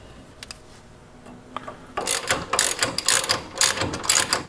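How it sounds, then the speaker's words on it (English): A ratchet wrench loosens a bolt on a suspension link of a lifted Toyota, with a few quiet clicks at first, then rapid loud ratcheting clicks in quick bursts, close up. "wrench goes in the end of that bolt coming out of the link"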